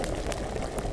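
Liquid boils in a pot in the medieval video game Kingdom Come: Deliverance, a brief burst of close bubbling and popping with a few sharper blips.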